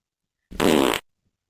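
A single short, loud, raspy fart after a meal of asafoetida and ghee khichdi, close up and lasting about half a second, with silence before and after.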